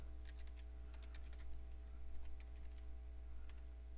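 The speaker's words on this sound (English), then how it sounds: "I'm going to type in my name and hit next" Quiet, close typing on a computer keyboard, a short burst of irregular key clicks over a low electrical hum.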